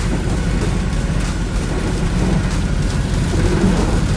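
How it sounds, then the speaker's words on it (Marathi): Rain falls in a steady, dense hiss, a loud, even wash of sound from start to finish with no voices over it. "चला बघा पाऊस कसा चालू आहे"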